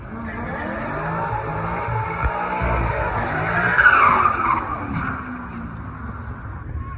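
A Mercedes-AMG car performs a burnout, its tires skidding and squealing steadily for about seven seconds over a loud, continuous engine roar that swells midway and then eases.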